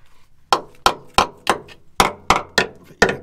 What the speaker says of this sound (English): I use a sharp welding hammer.